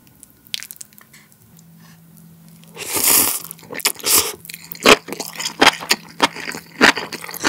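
Enoki mushrooms from a motsunabe hot pot bitten and chewed up close, with quiet moments and then a run of loud wet crunches and squishy chews, no talking.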